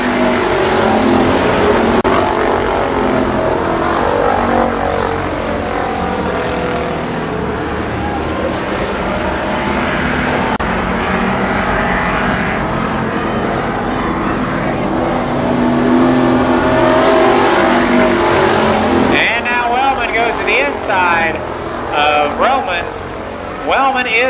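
Race cars thunder around Columbus Motor Speedway in 1993, a loud continuous roar of engines under an announcer's steady race commentary.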